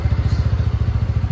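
A motorcycle engine runs close by with a steady, low, rhythmic throb, as if just started and idling.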